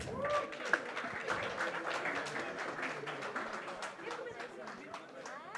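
Audience applause at a film trailer launch event, a dense crowd clapping that holds steady for several seconds, with voices mixed in.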